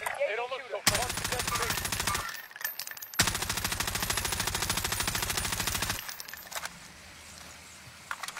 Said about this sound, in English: Trying to distract him with bullets.